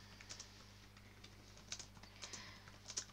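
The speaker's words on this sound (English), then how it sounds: "Are you typing?" Computer keyboard typing in a quiet room, faint scattered bursts of light key clicks with short pauses between them under a low steady hum.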